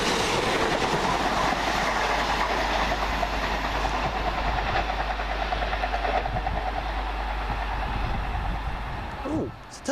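A London Midland diesel Turbostar train, running as a double unit, passes at Smethwick Galton Bridge with a loud, steady rumble and rhythmic wheel clatter, easing off near the end as a voice begins to speak.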